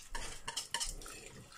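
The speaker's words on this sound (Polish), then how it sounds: "I stale mieszając tą moją ręczną trzepaczką, wlewam tutaj do" Hand whisk stirring and clinking against a cooking pot while a pork goulash base is poured in, a few quick scraping, metallic taps and rattles close up, with a brief splash of liquid.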